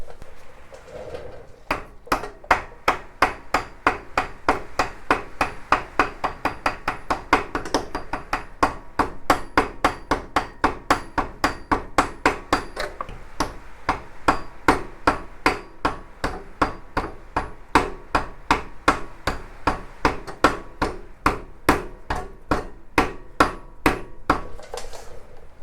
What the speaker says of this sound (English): Let's go ahead and get the rubber hammer out.